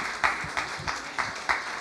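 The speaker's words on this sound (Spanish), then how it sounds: "Dale un aplauso al Señor" A church congregation claps during a sermon, a few evenly spaced, muffled claps in a slow steady rhythm, moderately loud with a hollow room sound.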